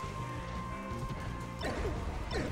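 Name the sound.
up smash attack hit in Super Smash Bros. Melee video game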